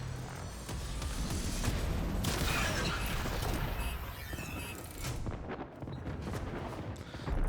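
Railjack ship weapons firing in the video game Warframe, a sustained heavy barrage of booming, artillery-like blasts that rolls on for several seconds before thinning into scattered bursts.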